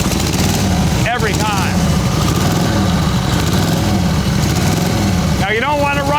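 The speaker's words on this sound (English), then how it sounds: "I'm going to turn the key on for the very first time, and this bike will start on 1 kick." Harley-Davidson 45 motorcycle engine running at a steady idle close by, a continuous loud rumble throughout, with brief talk over it near the start and end.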